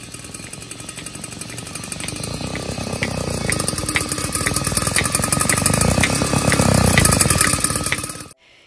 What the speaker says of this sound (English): Using the wrong extension cord will cause your motor to stall.